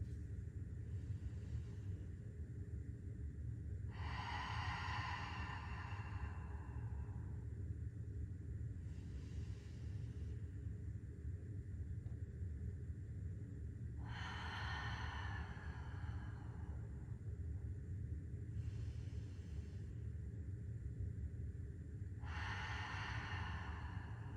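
Slow, deep breathing during a relaxation exercise comes through as a few long, soft inhales and exhales spaced several seconds apart. It is quiet and close, over a low room hum.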